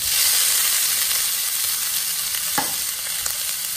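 Octopus sizzles steadily in olive oil in a hot pan, a loud continuous frying hiss with a brief clatter partway through and no talking.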